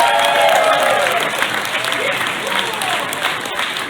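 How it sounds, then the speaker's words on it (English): A crowd applauds children after a charity auction, with continuous close clapping throughout and a few voices mixed into the noise. "a huge round of applause for all the kids who took part in that charity auction"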